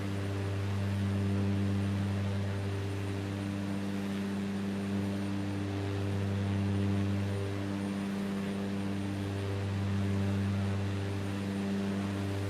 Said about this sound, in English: the thing about the Concorde though is that it's extremely noisy by today's standards